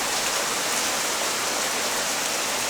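Heavy rain pours down steadily at the beach, seen from a front porch, a dense, even hiss of drops striking surfaces that stays loud and unbroken throughout.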